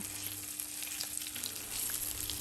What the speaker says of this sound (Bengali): দিয়ে দিচ্ছি এক এক করে মাছগুলো গরম তেলের মাঝে।